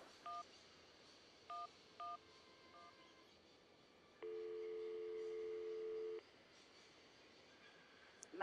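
Telephone keypad dialing in the Syberia video game: a few short separate touch-tone beeps, then one longer steady tone, clear over a quiet background.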